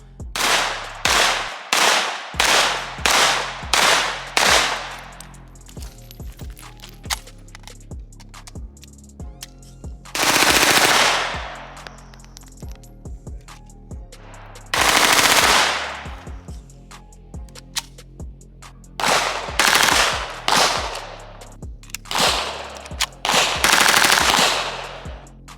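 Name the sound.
dual Scorpion submachine guns firing akimbo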